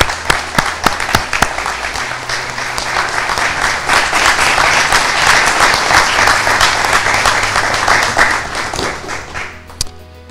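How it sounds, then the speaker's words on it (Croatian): An audience at a book launch applauds warmly, opening with a few separate claps, then rising into a sustained, dense round of clapping that fades off with a few last claps. "I veliki aplauz za Dejani."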